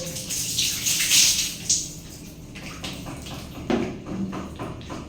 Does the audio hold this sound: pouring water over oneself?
yes